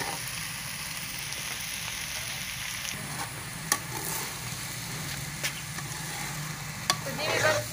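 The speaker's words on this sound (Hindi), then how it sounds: "चीनी भी मिक्स कर लेना चंगी तरह कि एक जान हो जाए और आस्ता आस्ता चम्मच हिलाना है" A spoon slowly stirs sugar into zarda sweet rice in a pot, giving soft continuous scraping with a few sharp taps of the spoon against the pot, close and quiet.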